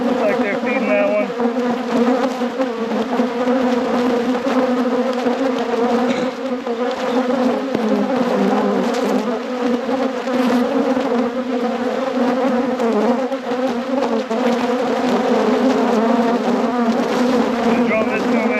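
Honey bees buzz loudly and continuously during a hive inspection after winter, a dense, close drone filling the whole stretch with only slight swells in intensity.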